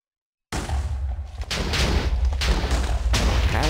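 After a brief silence, a sudden loud video game explosion bursts out, followed by heavy rumbling blasts and crackling debris that keep booming.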